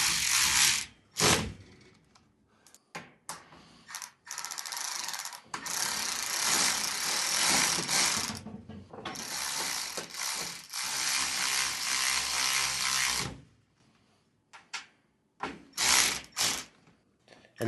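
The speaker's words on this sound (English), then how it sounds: "So I'm going to switch over to my ratcheting wrench because we're going to need it on the other side." A ratcheting wrench tightens bolts on an overhead garage storage rack. It gives close, rapid clicking in long sustained runs, broken by a few short strokes and pauses.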